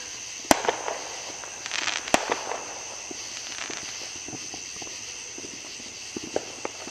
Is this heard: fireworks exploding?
yes